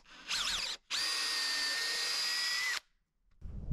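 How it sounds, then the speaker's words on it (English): A power drill whirs in two bursts while drilling holes near the end of a deck board: a short rising spin-up, a brief pause, then a long steady high-pitched drilling run that cuts off, followed by faint handling noise. "I'm gonna drill these holes since it's so close to the end"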